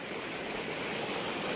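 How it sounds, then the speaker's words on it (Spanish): Clear water flowing in a spring-fed river at Comala, Colima, a steady, close, full rushing wash with no break or voices. "Ahorita creo que estamos en un río, pero es de agua limpia."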